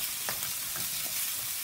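Chana masala stirring and frying in a non-stick wok over medium heat, a steady close sizzle with a few soft scrapes of the utensil against the pan and no talking.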